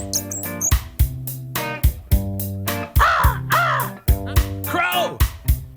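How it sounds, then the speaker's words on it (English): Crow cawing in a forest, a series of loud, harsh caws repeating in an uneven rhythm with short gaps, close and clear, alongside pulsing musical tones. "Crow."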